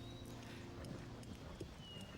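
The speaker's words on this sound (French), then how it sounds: "Quel magnifique cheval." A horse's hooves clip-clop in a few scattered, faint knocks over a low background hum, at a walking pace and some distance away.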